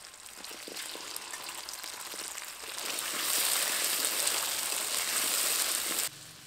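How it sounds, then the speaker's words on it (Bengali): Taro pieces frying in hot oil, in the same pan just used to fry a fish head, give off a steady sizzling hiss that swells louder partway through and stops abruptly near the end, with no talking. "এবার এই তেলের মধ্যেই কচুগুলো দিয়ে ভেজে নেব"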